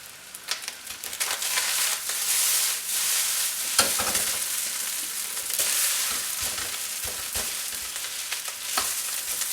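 Rice stir-fried in a hot pan for fried rice gives a loud, steady sizzle, broken by repeated scraping and tossing strokes from start to finish, with no voices.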